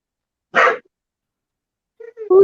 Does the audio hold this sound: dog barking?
yes